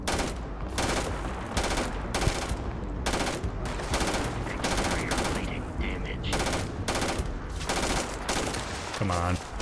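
Rapid gunfire from a Starfield firefight, loud bursts of shots hammering back to back with barely a pause across the whole stretch, ending in a short electronic chirp.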